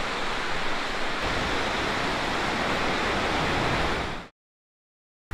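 Ocean surf on the Mendocino coast pours out as a steady, loud, broadband wash of breaking water for about four seconds, then cuts off abruptly into silence.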